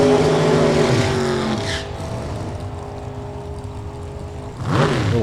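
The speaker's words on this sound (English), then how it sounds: "Little throttle work down there." Two drag racing cars sit at the starting line at a Topeka drag race, their engines revving loudly with rising and falling pitch, dipping briefly before a final surge of throttle.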